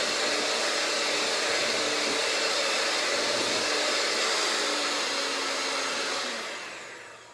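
An electric hand mixer beats salted brownie batter in a bowl, giving a steady, loud motor whir with a faint beater rattle that holds for about six seconds and then winds down as the mixer is switched off.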